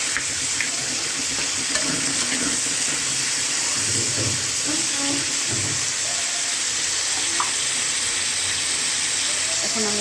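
Prawns fry in a hot pan with a steady, even sizzle and hiss, close up, with faint scraping from stirring underneath.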